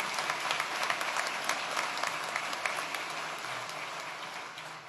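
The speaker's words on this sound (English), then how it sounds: "Let's give them a round of applause." A crowd applauds at a state police academy graduation ceremony, a broad wash of many hands clapping that starts fairly strong and slowly tapers, moderately loud with no voices over it.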